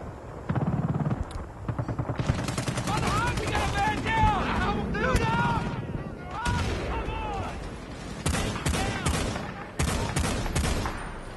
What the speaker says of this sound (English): Through the wall, shooting him with the Dragunov sniper rifle.